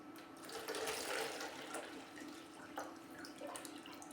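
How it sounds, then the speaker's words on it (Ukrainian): About a litre of water pours steadily into a container at close range, an unbroken splashing gush lasting several seconds with small shifts in pitch as the vessel fills, and no talk. "нам потрібно налити в якусь ємність приблизно літр води"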